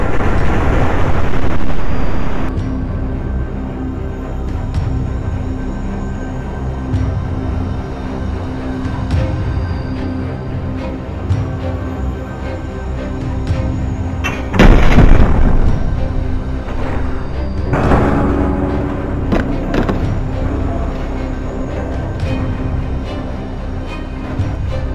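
Naval gunfire from warships in the game People Playground, heard as a steady loud rumble of battle with sharp blasts at a few points, the heaviest burst arriving near the middle.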